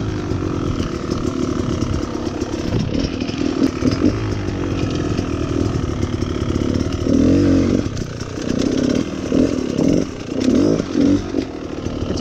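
A 2018 Beta Cross Trainer 300 two-stroke dirt bike is ridden off-road, its engine buzzing loud and close throughout, the revs rising and falling with throttle blips.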